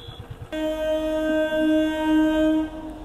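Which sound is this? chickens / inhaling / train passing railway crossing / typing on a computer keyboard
train passing railway crossing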